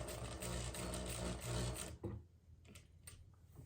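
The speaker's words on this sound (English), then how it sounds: "let me sew another line to get that right" A sewing machine stitches a pillowcase in a fast, steady mechanical whir for about two seconds, close and clear, then stops, leaving faint handling clicks.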